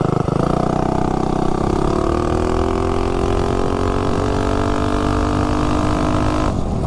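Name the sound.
tuned Juggernaut engine revving during launch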